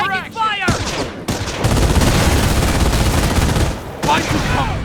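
Intense gunfire erupts in the World War II strategy game Company of Heroes during street fighting in Carentan, loud machine-gun bursts and rifle shots firing almost continuously, with shouted voices over the battle.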